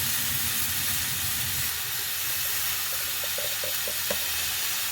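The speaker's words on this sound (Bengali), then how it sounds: "আমি আলুগুলো দিয়ে বেশ কিছুক্ষণ নাড়বো।" Potatoes stirred and fried in a pan give a steady hissing sizzle, close and even, with low scraping at first and a few faint clinks later; no one speaks.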